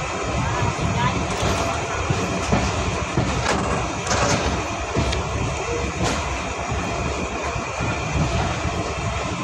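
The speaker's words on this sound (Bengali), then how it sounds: "আন্তনগর তিতুমির এক্সপ্রেস ট্রেনটি চিলাহাটি রেলওয়ে স্টেশন ছেড়ে গেল" The Titumir Express intercity train pulls out of Chilahati railway station, a dense, steady rumble with rail clatter and a few sharp clanks, with background voices murmuring through it.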